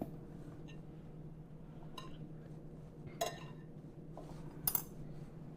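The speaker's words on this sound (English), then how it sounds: "I'm just going to try to break this butter up with the spoon or the fork" A spoon or fork breaks up butter in a bowl while making Southern biscuits, giving a few faint scattered clinks and scrapes of metal against the bowl over a quiet kitchen background.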